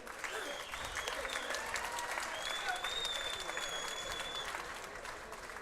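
Sustained applause from the audience at a live boxing event in a theatre venue, a dense, even roar of clapping held for several seconds with no voices over it.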